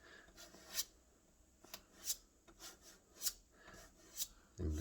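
A putty knife drags red glazing putty across a surface in several short, gritty rasping strokes, close and quiet, with no voices.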